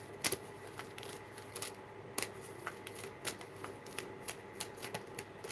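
Tarot cards shuffled in rapid, crisp riffling bursts with sharp clicks, close and steady throughout, with no talking.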